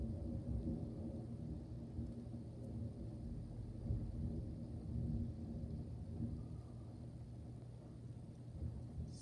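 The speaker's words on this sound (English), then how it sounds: "But we finally got the thunderstorm." Thunder from a strong line of thunderstorms rolling through, a long, deep, continuous rumble that swells and fades gently, distant and fairly faint with no voices.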